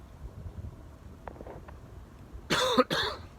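A single sharp cough up close, breaking in after faint outdoor ambience with light wind.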